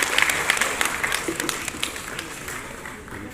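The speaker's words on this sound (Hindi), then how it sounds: "एक बार जोरदार तालियां" A crowd applauds at a film festival award ceremony in Kurukshetra, a dense, sustained patter of many hands that gradually thins and softens, with some voices underneath.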